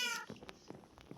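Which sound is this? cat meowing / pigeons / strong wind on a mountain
cat meowing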